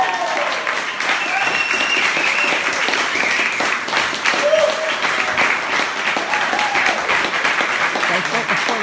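A crowd at Twyford Hall claps loudly and steadily after a 7.4 million funding announcement, a dense sustained applause with voices mixed in and an occasional cheer.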